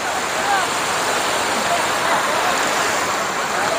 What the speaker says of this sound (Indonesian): Terlihat suasana daripada dekat pantai PD, Negeri Selangor,